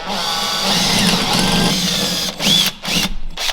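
A power drill whines steadily as it bores into wood, then cuts off and restarts in short bursts near the end.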